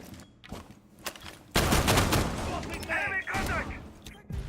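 Gunshots in a Rainbow Six Siege college esports match, sounding as a loud cluster of close shots and crackling impacts partway through, with a caster talking over the game action.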